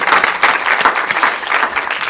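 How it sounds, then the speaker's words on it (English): A small group claps steadily for a couple of seconds, a dense patter of close hand claps with no cheering. "Everyone give Taylor a round of applause."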